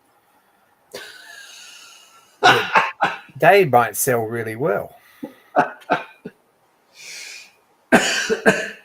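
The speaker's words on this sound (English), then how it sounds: "That made me cough." A person coughs a few times in short bursts, mixed with casual talk and a brief throat-clearing near the mic.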